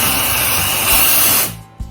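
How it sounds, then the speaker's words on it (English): Colour hair spray hisses from an aerosol can in a loud continuous burst, close up, then cuts off abruptly and leaves a quieter room with a small bump. "I gotta watch where I spray"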